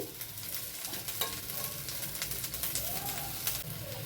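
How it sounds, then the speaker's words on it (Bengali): Cauliflower florets fry in oil in a wok with salt and turmeric, a steady close sizzle with stirring scrapes and occasional sharper pops running throughout. "ওই কড়াইতেই আবারও খানিকটা তেল দিয়ে এবার ফুলকপিগুলো ভেজে তুলব"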